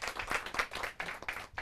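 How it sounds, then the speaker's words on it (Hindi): Hall audience at a Hindi school competition final claps for a student team, a brief, moderately faint burst of uneven applause with scattered individual hand claps. "जोरदार तालियां दिनकर टीम के लिए।"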